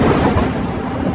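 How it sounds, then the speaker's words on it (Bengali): Thunder rumbling low and heavy beneath steady rain, a dense continuous storm wash throughout with no voices, set in a rural Bengali village scene. "টুপটাপ বৃষ্টি তখনও চলছে"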